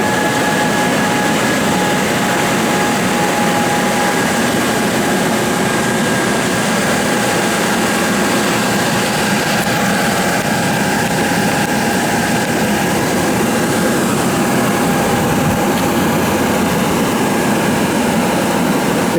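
An air pump inflates a Ejaee inflatable paint booth set up for a Honda Civic paint repair, giving a steady, loud continuous whir and hum with a faint tonal whine, running alone without speech.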